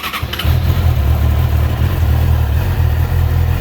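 A stock 2019 Yamaha YZF R6 sport motorcycle cranks briefly, fires up and settles into a steady, loud, close idle with a fairly mild exhaust note.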